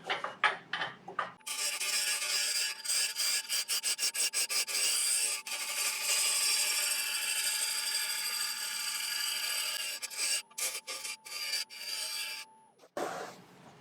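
A lathe tool cuts into a piece of elm wood, producing a harsh, close scraping rasp that starts in short stuttering bursts, settles into a sustained cut, then breaks up again before stopping.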